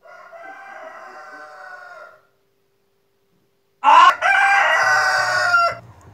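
A rooster crows loudly and close by, first in one long call, then after a short silence in a second, stronger crow that starts with a sharp burst.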